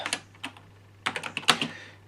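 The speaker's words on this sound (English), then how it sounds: "So, let's type Pac-Man" Keys clack in short bursts on the keyboard of a 1995 Sharp Font Writer FW-700 word processor, a few isolated presses followed by a quicker cluster of crisp, close taps, with a steady low hum underneath.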